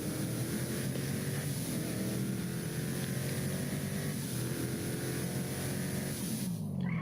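The fully modified Franken Strange car in GTA 5, fitted with a Stage 4 engine and turbos, holds a steady, loud, gritty engine drone with a shifting pitch that falls away near the end, with no talking.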